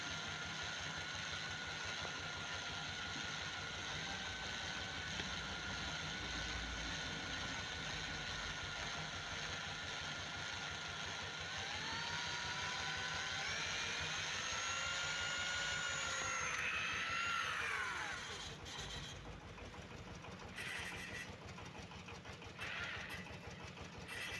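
Walk-behind tractor engine drives a homemade generator with a steady, continuous mechanical drone. A drill-like whine rises and sweeps over it near the end, then the engine note drops and steadies.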